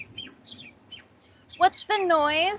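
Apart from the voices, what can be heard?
birds chirping outside a van near a beach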